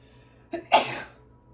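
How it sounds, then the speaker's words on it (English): A single close sneeze, a short sharp intake followed by a loud explosive burst that fades quickly, in an otherwise quiet room. "I feel like I'm going to sneeze."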